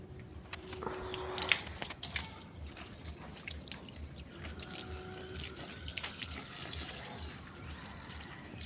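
Water trickles and drips steadily on a rooftop garden in Bardhaman as potted plants are watered, a soft continuous splashing with scattered drips and faint outdoor background, no talking.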